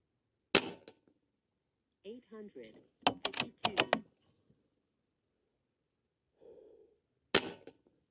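Barra 250z regulated PCP airgun fired at 50 yards, heard as a sharp crack near the start and another near the end. Faint clicks and brief speech fall between the shots.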